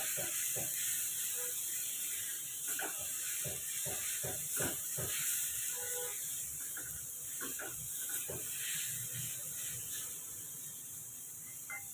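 Raw jackfruit pulp sautéing in a hot tempering of spices, with a continuous close hiss and sizzle broken by irregular scraping and clicking from stirring, and no voices.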